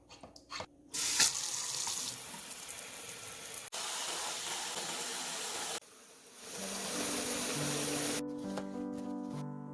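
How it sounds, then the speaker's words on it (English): A kitchen sink fills from the tap with warm soapy water for soaking a range hood filter, a steady rushing stream close by, changing pitch as the flow shifts and the basin fills. "Remove the filter and soak it in warm, soapy water."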